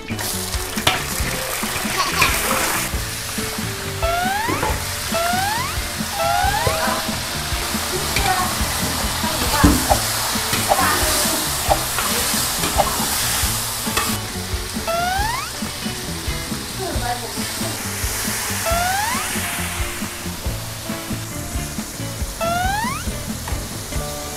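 Onions stir-frying in a large wok in a village kitchen in Inner Mongolia, China: a steady loud sizzle with repeated scraping spatula strokes and metallic clinks throughout.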